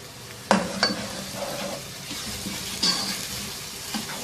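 Finely chopped onions fry in a pot with oil over a medium flame, a quiet sizzle under sharp clinks of a spoon against the pot and a faint trickle of water nearby.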